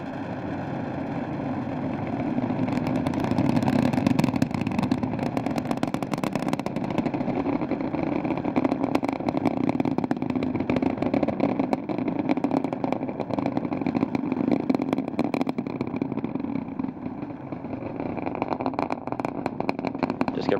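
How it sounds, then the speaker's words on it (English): Space Shuttle Discovery's final launch, STS-133 in February 2011, heard as a steady, heavy rumbling roar of rocket engines from a distance, continuous and unbroken with crackling texture throughout. "Discovery's engines are now throttling down as the orbiter passes through the area of maximum pressure"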